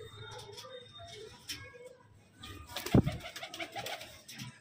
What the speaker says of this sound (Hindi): ले भी दोस्तों एक ये लाल चिन्नी कबूतरी